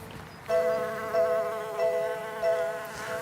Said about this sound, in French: je vois par-ci par-là des insectes qui butinent